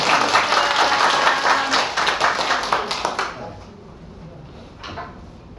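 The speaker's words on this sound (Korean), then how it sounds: "두 손을 내밀고 축복하며 박수로" A congregation in a Korean church service claps together in a burst of brisk applause lasting about three seconds, then quickly dies away to near quiet with one last faint clap.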